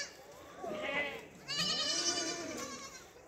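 A goat bleats in two long, wavering cries close by, the second louder and more drawn out, over faint background noise with no talking.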